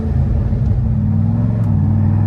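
A 1961 Corvette resto-mod, a C1 Corvette driven with the top up, gives off a loud, steady low engine rumble with road noise throughout from inside the car.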